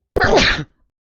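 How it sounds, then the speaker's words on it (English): A single big human sneeze, sharp and loud close to the microphone, lasting about half a second and followed by silence. "It was a big sneeze."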